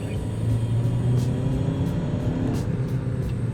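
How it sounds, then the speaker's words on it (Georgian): A VW Passat R-Line accelerating on a test drive, its engine a steady, loud low rumble with road noise from inside the cabin, no voices over it. "ეხლა გაწევაც დავტესტოთ,"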